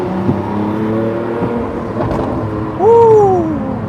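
A Lamborghini Aventador LP780-4 Ultimae V12 engine, sounding at a low, steady pitch before surging into a loud rising rev near the end. It is heard up close with no talking.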